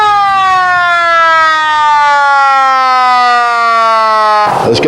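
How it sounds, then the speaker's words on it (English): A siren mounted on an old Navy truck with a 6.2 liter Detroit diesel, converted to 12 volts, wails loudly in one long, slowly descending tone that winds down before ending in a brief noisy burst. "I put the siren on there for grins."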